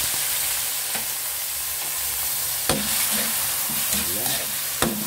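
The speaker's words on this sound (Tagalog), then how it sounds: "gisa na natin yan" Tenderized beef for pares sautéing in a hot pan, a continuous hiss of frying broken by a few clanks and scrapes as it is stirred, near and without speech.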